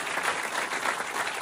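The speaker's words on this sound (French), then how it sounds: "vous pouvez l'applaudir aussi" Theater audience at a stand-up comedy show applauding steadily, a dense even patter of many hands clapping, moderately loud with no voices on top.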